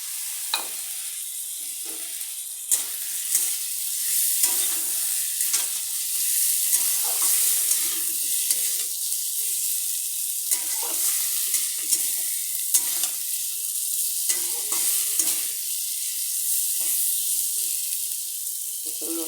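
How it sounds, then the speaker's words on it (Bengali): Eggs stirred and frying in a pan while cooking egg curry, a steady bright sizzle throughout with frequent scraping stir clicks and taps, close and fairly loud, no talk. "অল্প নাড়াচাড়া দিয়ে ডিমগুলি ছেড়ে দেবো ডিম আমি আলাদা ভাজবো না"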